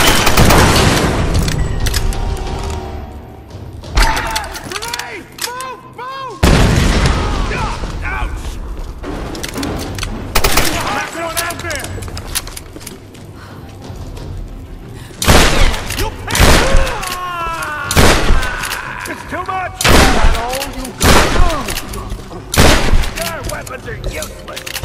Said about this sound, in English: Shoot the barrel!